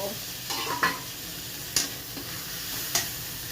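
Prawns with salt, turmeric, cumin powder and chilli powder sizzle steadily in a pan. A few brief stirring clatters break in at intervals, and no one speaks.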